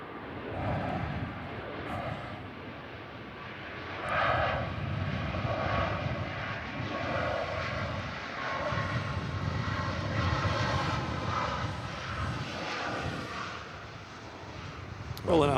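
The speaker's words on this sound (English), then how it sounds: "Rolling out Ryanair 737 MAX." A Ryanair Boeing 737 MAX rolls out on the runway after touching down at Manchester Airport, its engine roar steady and fairly distant, swelling slightly midway, with people talking over it.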